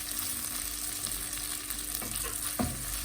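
Thin slices of shawarma meat sauté in a pan, giving a steady close sizzle and crackle with a couple of soft scrapes of stirring, no voices.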